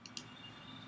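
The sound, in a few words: computer mouse clicking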